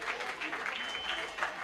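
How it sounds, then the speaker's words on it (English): Short, soft applause from a debate finals audience rises and fades, a spread of light claps at a distance. "Please, let's give our debaters a round of applause."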